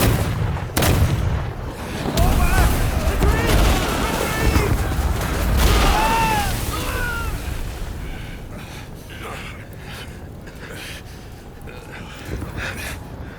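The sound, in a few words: gunfire volley from troops in Rise of the Ronin video game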